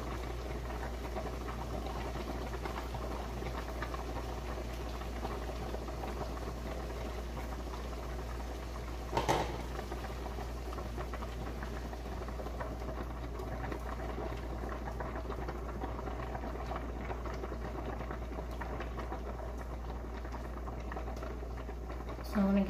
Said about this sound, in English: So I'm gonna give that butter a chance to melt down and get settled in.